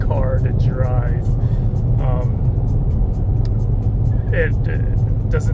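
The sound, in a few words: Dodge Charger RT sedan driving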